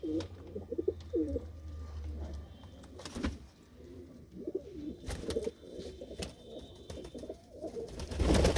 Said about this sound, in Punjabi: ਇਹ ਜਿੰਨੇ ਵੀ ਨੇ ਆਪਣੇ ਵੱਡੇ ਪੰਛੀ ਨੇ ਜੀ